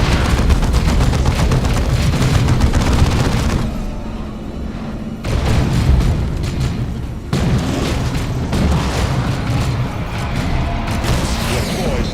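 Explosions and gunfire in the video game Dawn of War 2, continuous loud battle noise with repeated heavy booming bursts and a brief quieter gap, close and dense throughout.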